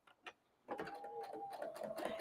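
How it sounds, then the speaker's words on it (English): A sewing machine stitching corner to corner across a kitchen towel, running steadily after a couple of short clicks, fairly faint and close. "this is a time when your sewing machine decides it should eat the fabric"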